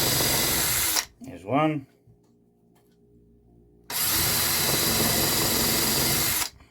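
A power drill fitted with a countersink bit in a home workshop, whirring in two sustained bursts, close and loud. A short spoken remark falls in the quiet gap between them.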